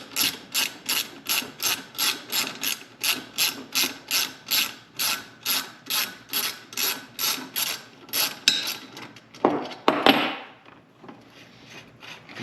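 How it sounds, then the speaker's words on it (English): A drilled hole in a custom strider frame is bored out by hand, giving about twenty steady, evenly spaced ratcheting strokes up close, then a rougher scrape and a quiet pause. "The hole that I drilled needs to be bored out a little bit extra."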